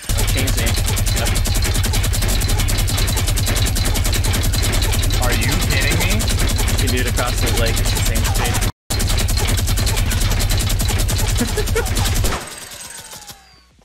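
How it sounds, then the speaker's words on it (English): Rapid automatic gunfire in Fortnite, a dense, continuous fusillade of shots at steady loud level for about twelve seconds, broken by one brief dropout, then tailing off abruptly. "God, what a shot."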